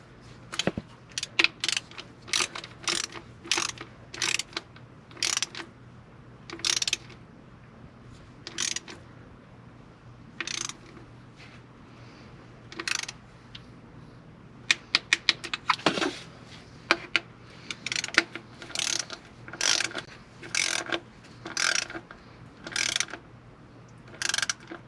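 Ratchet clicking in quick bursts while bolts are tightened in a star pattern on an Audi A5, with short pauses between each run of rapid pawl clicks and no talk.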